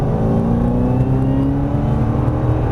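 A Ford Mustang Shelby accelerating on a drift course, a loud, close, steady engine roar that holds a rising tone throughout.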